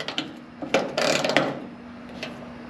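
Ratcheting clicks and small metallic mechanism sounds come from a wrench loosening a screw on a hood damper bracket of a Lexus IS300, close and moderately loud, with a busier burst in the middle, over a steady low hum.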